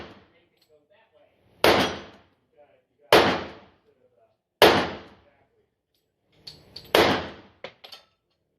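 Gunshots at an outdoor shooting range: four loud, sharp reports spaced about a second and a half apart, each with a short decaying tail, plus a couple of smaller pops near the end, close to the listener.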